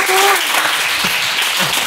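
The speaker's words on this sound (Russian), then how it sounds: "Все это психотерапевтические аплодисменты." A group applauds during a history quiz show, with steady dense clapping that runs throughout and voices talking over it.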